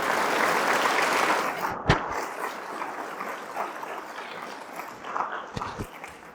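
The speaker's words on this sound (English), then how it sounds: "So let's give a round of applause to yourself." Students in a school hall clap together, a dense burst of applause that fades after about two seconds into scattered claps and a few louder knocks.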